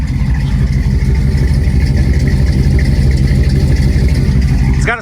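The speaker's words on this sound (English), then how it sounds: "Car sounds great." A 1957 Chevrolet two-door's engine, fitted with a small cam, idles loudly and steadily up close, a deep even rumble that holds throughout.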